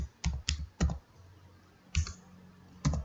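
Keys tapped on a computer keyboard while HTML anchor-tag content is typed: several sharp, close clicks in small clusters, separated by a quiet pause, with no talking.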